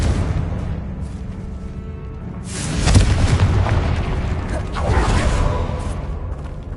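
A Confringo fire spell explodes in a Harry Potter video game: two heavy, rumbling blasts with creaking debris, the first swelling midway and a second following a couple of seconds later, loud and booming.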